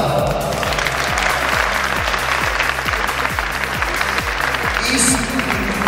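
Broad crowd applause washes over a thumping, steady music beat at the Ararat 73 Cup, loud and continuous for the whole stretch, with a brief bright burst near the end.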